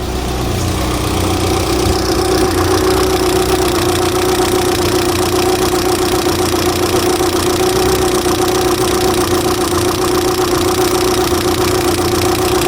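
A Mitsubishi Galant engine idles steadily and close by after being brought back to running, with a constant low hum, a faint knocking tone and a rough, even rhythm, and no talk.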